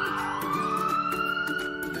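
An ambulance siren sounding steadily and loudly nearby, its wailing tone held with a slight pitch shift as the vehicle approaches and passes.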